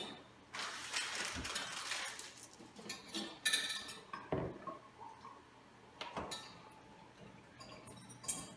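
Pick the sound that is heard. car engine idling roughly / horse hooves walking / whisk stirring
whisk stirring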